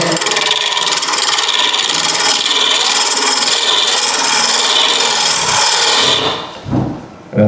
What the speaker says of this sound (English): I'm actually using the right wing of the gouge as a sort of a scraper-like